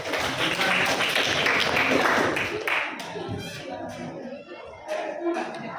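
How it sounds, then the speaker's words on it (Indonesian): A classroom of high school students claps for a classmate, a dense burst of applause that thins out after a few seconds into scattered claps and low chatter nearby. "Tepuk tangan dulu buat"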